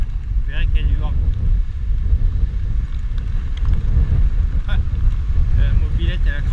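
Strong wind by the sea at Carro buffets the microphone in a constant low roar, with a voice speaking intermittently over it.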